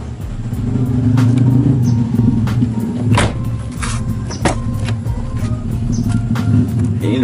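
Interior drone of a 1982 Toyota Corolla DX KE70 with a swapped SR20DET engine on the road, steady low engine hum with occasional clicks and knocks from the cabin, no talk.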